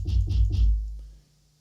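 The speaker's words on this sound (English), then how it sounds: "this is a 909 kick" Roland 909 kick drum sample played three quick times in a row, deep booming thumps with a clicky attack, then a short decaying tail into silence.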